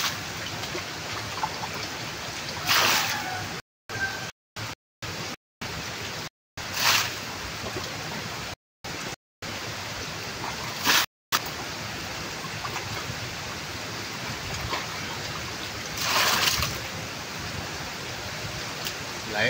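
A strong, fast stream rushing through muddy ground after overnight rain gives a steady, broad wash of flowing water that runs without pause, with a few brief dropouts and some louder surges.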